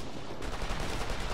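Sustained automatic gunfire in Operation Flashpoint: Red River, a dense, continuous rattle of rifle shots blending with the wider firefight, moderately loud throughout.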